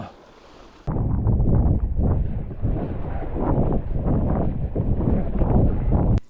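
Gusty wind buffets the microphone outdoors during a model aircraft demonstration day, a loud, rough roar that surges and eases in uneven bursts after a brief quieter moment at the start.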